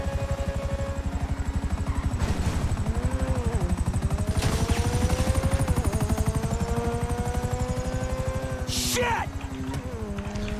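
Helicopter rotor chop in the video game GTA 5, a loud, fast, steady thudding that persists throughout, with a few brief game sound effects layered on top.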